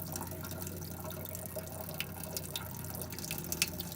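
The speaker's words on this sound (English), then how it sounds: "we're going to turn on the cold water first. We're going to run this until we see pink" Cold water runs from a faucet in a Casita travel trailer during winterizing, a quiet trickle with sputters and drips from air in the line, faint and close with no talk.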